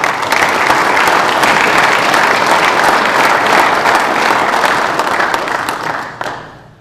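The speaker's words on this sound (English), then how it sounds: "Please give me a round of applause" Audience at a New England PGA section fall meeting applauding new members: dense, sustained clapping that holds steady for several seconds, then thins out and stops.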